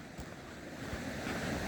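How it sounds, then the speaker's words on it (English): Water falls and rushes at a creekside waterfall, a steady broadband wash heard at a moderate distance, with no voices. "Got the waterfall."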